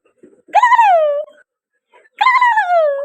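A dog lets out two drawn-out, wavering howls with a whimpering edge, each about a second long and separated by a short pause, close and loud with no other sound around them.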